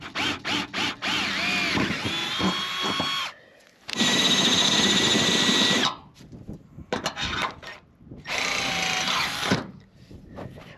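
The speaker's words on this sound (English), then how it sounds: "let's drill some holes." A power drill bores holes into a steel shipping container during an off-grid build, with loud sustained runs of a few seconds each, separated by short pauses and quick trigger bursts, close to the listener.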